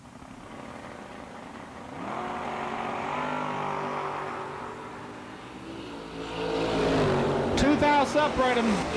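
Drag racing cars, one of them a Camaro and the other a wagon, rev at the starting line and launch. A loud engine drone builds and rises to a roaring surge near the end while an announcer talks over it.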